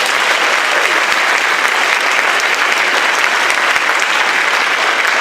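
Sustained, dense applause from a school band concert audience honoring a graduating senior at Gunn High School, loud and steady throughout with no pauses.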